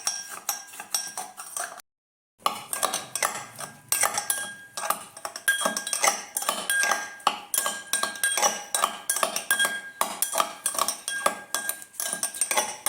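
Metal spoon clinking and scraping against a glass while strawberries, mint leaves and lemon slices are mashed with black salt, a steady run of close, bright taps and clatters with one brief pause.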